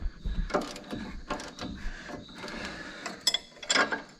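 Metal clicks and ratcheting from a wrench and socket as the sway bar link bolts come off a Duramax truck's front suspension, a series of irregular mechanical clanks and scrapes at close range.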